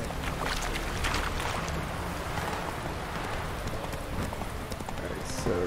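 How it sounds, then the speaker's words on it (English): Horse Roach galloping in the video game The Witcher 3, a steady clip-clop of hooves under continuous game ambience and wind-like noise, fairly loud throughout with no break. "Let's go, Roach"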